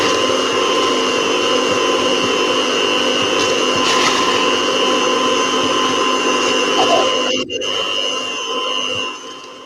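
Electric mixer with a whisk attachment whisking soft brown sugar, a loud steady whine running continuously for several seconds before a brief hiccup and then trailing off.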